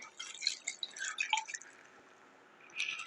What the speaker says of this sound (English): so now I'm going to add water.